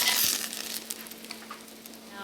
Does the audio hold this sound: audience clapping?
no